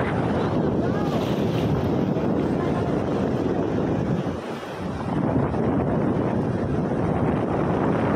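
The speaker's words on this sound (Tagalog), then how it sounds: "Uy, lumakas na yung alon, no?" Strong wind buffets the microphone on the coast at Kamisu, Ibaraki, Japan, while sea waves surge and crash in a steady, loud roar, with a brief lull midway.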